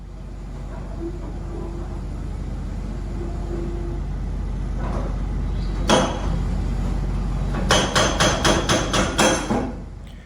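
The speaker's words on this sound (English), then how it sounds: "some of these machines that I'm filming here are quite noisy, as you can hear." Construction machinery at a work site rumbles continuously, with a sharp metallic bang near six seconds and a rapid burst of loud clanking hits near the end.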